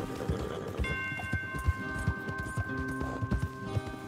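Horses' hooves in the Red Dead Redemption 2 video game, a rhythmic, fairly close clip-clop of several animals walking, with sustained game music tones behind.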